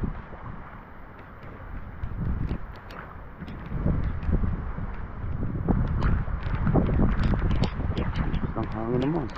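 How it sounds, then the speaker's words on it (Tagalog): Strong gusts from Typhoon Enteng roar and buffet the microphone in a constant low rumble that swells louder partway through, while people talk over it. "Ang hangin naman."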